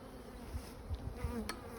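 Honeybees buzzing around an open hive during an inspection, a close, steady drone with faint bumps and handling noises.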